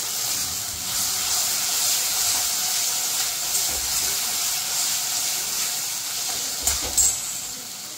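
Ginger-garlic paste fries in hot oil with chillies, giving a continuous bright sizzling hiss that stays steady throughout, with a few louder crackles near the end and no voices.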